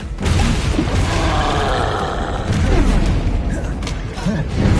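Blasting spell bursts in a Hogwarts Legacy duel, a dense run of booming explosive pops and roaring impacts under continuous game noise, loud and close throughout.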